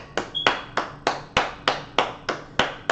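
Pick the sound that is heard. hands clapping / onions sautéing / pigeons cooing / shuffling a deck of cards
hands clapping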